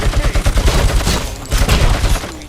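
Rapid, loud gunfire rattles through RoboCop: Rogue City combat, with quick successive shots and heavy low thumps pounding throughout, and no voices.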